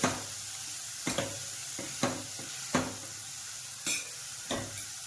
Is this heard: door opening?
no